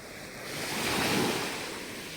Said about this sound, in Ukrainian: Море чудове, тепле таке, чисте і бурхливе.